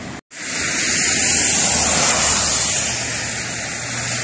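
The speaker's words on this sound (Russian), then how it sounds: "Волны какие." Sea waves break on the shore near New Athos, a loud, continuous broadband roar of surf that begins after a brief silent gap and swells and eases slightly.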